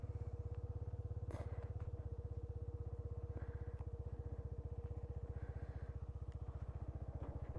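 A Sinnis RSX 125cc single-cylinder motorcycle engine, rated at 11 horsepower, thumps in a fast, even rhythm while riding, sounding close and steady, with faint mechanical clatter.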